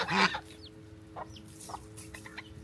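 Geese cluck and squawk nearby, one loud honking call at the start followed by scattered softer clucks over a faint background hum.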